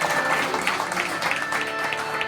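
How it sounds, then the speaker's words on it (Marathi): A crowd claps for a speaker at a double-bari bhajan program with pakhawaj accompaniment: dense, steady applause lasting a couple of seconds, with a faint sustained musical tone in the background. "हरिभक्त पारायण देसाई महाराज यांच्यासाठी आपण टाळ्या वाजवूया"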